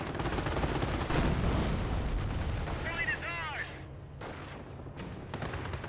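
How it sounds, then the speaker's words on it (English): A single anti-tank gun shot strikes a Panther tank in the Company of Heroes battle game, a loud impact amid a dense, continuous din of gunfire and battlefield noise, with a commentator talking over it. "Panther does take a nice shot there from the AT gun."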